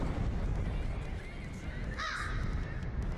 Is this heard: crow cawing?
yes